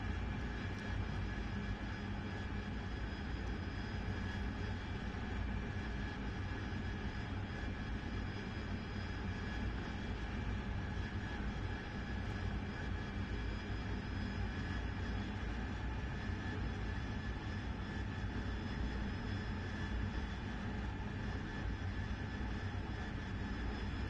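AV-8B Harrier jet engine during air-to-air refueling in the DCS flight simulator, a steady, dense engine roar and whine that holds unchanged for the whole stretch with no talk over it.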